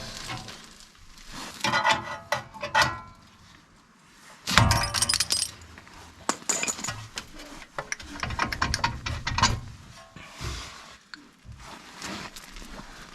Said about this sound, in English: so we've got our tie rod puller on. We're going to pull that off.